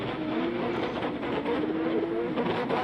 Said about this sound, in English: who would have thought like a tractor-based engine would have sound that fantastic?